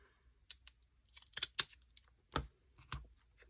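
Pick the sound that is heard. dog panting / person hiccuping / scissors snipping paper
scissors snipping paper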